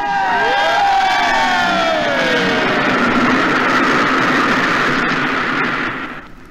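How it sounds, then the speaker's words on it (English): A station crowd cheers and shouts for the mayor on a railway platform, loud and sustained with rising voices and whistles layered over it, fading out at the end. "A big cheer for the mayor."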